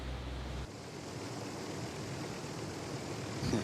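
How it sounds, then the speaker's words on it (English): A racing powerboat with tractor-style exhaust pipes, running around 140 mph on a race course, gives a steady loud broadband roar with wind-like rush and no talk. "Dirty Money with those tractor pipes coming out blasting the noise"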